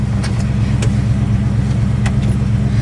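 Interior drone of a numbers-matching 1972 Plymouth Duster being driven down the road, a steady low engine rumble with road noise throughout and a few faint clicks, no talking.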